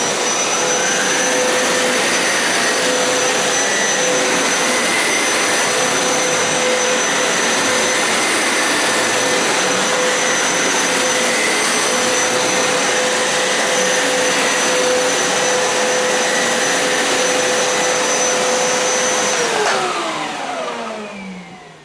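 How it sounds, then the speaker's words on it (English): A wet vacuum drawing up leftover water runs as a loud, steady, high-pitched whine with a hissing airflow rush for about twenty seconds, holding a constant tone before spinning down and fading at the end; no voices. "I'm just going to use it as a vacuum, and that's going to suck up any remaining water"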